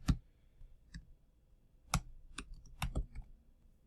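Quiet keystrokes on a computer keyboard, a sparse, uneven run of close, crisp clicks and taps with short pauses between them, heard alone.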